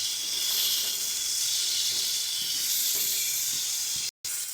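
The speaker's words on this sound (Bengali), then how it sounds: "মাছটাকে ভালো করে ভেজে নেব" Shrimp frying in oil seasoned with turmeric and salt, a loud, steady sizzle close by that cuts out briefly near the end before resuming.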